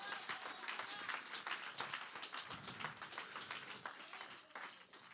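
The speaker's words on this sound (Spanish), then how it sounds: "¿Cuántos dan un fuerte aplauso?" Congregation applauding in a church service, a dense, steady patter of many hands clapping for about five seconds, fairly faint and distant, with no speech over it.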